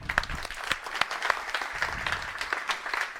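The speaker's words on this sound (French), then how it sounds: "Bah, bravo, on peut applaudir." A small audience at a talk about Tabby, a free code-completion tool, claps sparsely. Individual claps and a few sharp louder slaps stand out over a thin, uneven patter, with some low rustling underneath.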